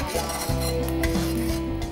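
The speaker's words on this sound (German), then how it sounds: "Die Zwiebeln ganz kurz in die Pfanne geben, einmal durchschwenken, dass sie schön glasig sind" Onions tossed briefly in a frying pan, with close metallic scraping and clinking of the pan and utensil and a faint sizzle, no voices.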